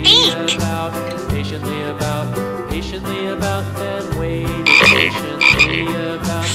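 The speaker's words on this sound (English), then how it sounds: "Frog is green." A Fisher-Price Laugh & Learn Shapes & Colors Music Show toy plays a frog croaking over its cheerful electronic melody, with repeated clear croaks standing out loudly against the music.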